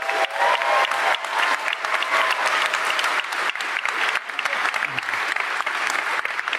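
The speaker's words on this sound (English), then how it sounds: "So can we please get a round of applause for Nikita?" A large crowd at the DEF CON hacker convention closing ceremony applauds loudly and continuously, a dense wash of clapping that holds steady from start to finish.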